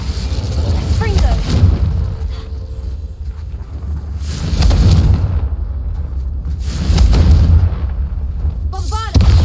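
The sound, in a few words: Confringo fire spell blasts in Hogwarts Legacy video game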